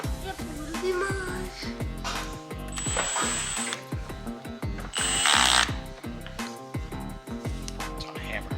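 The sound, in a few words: drilling into a mower part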